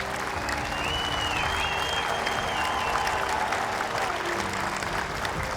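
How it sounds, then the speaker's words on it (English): Sustained applause from a large outdoor crowd honoring standing veterans at a 9/11 twentieth anniversary remembrance walk in Oceanside, steady and dense clapping throughout with a few scattered whistles. "can we give all of them a big round of applause?"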